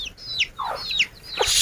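Chickens cluck and squawk close by in a village yard beside a three-stone cooking fire, giving several quick rising calls one after another with brief pauses between them.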